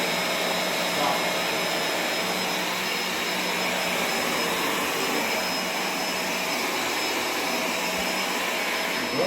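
A Shark vacuum cleaner runs steadily on carpet, a loud, continuous broadband whir with a faint high whine, sustained without break and close by.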